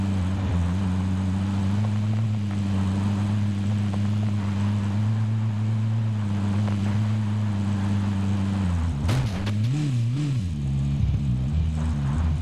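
A vehicle engine in the video game Warzone drones loudly and continuously, holding a steady pitch before rising and wavering as it accelerates near the end, with no speech over it.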